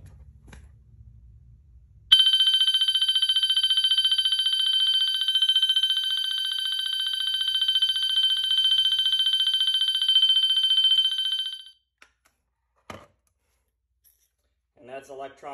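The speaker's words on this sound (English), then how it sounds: "This is the electronic version of bell." A Wheelock MT-24MCW fire alarm sounds its electronic bell tone, a loud steady ringing held for about ten seconds before cutting off, followed by a couple of faint clicks.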